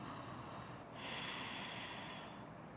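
During a vinyasa yoga flow, one slow, deep, airy breath is drawn close to the microphone over a steady background hiss, with no talking.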